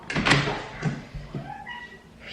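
A domestic cat meows indoors early in the morning, giving a few short, close meows with faint household noises in between.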